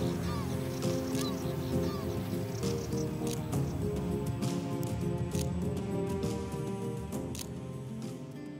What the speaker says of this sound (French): où seul le cri des oiseaux perturbe le silence